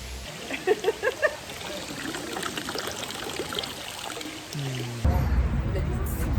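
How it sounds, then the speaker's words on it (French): Spring water trickles steadily and faintly from a hose in Algeria, a soft continuous wash with a person talking over it. "on peut aller goûter de l'eau de source qui provient justement de la cascade"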